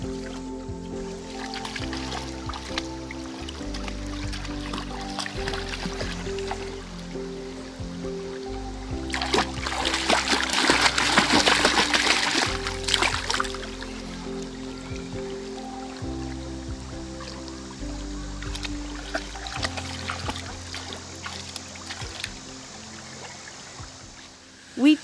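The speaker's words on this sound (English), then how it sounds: "We took the path to Henry's Woods, which brought us to the water, to the creek." A woodland creek in Pennsylvania in summer trickles and splashes steadily nearby, swelling into a louder rushing stretch midway, with a low hum and occasional knocks beneath.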